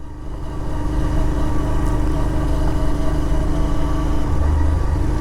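Bajaj Pulsar 125 Neon motorcycle engine running on a rough road, a steady low hum that swells slightly in the first second and then holds even and close, with no talk.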